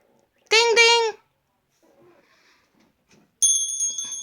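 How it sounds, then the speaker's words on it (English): A voice speaks briefly, then after a short pause a small toy bell rings with a bright, sustained metallic tone that lingers close to the microphone. "Ding the bell."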